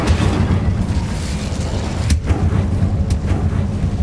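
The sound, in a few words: Incendio fire spell in video game Hogwarts Legacy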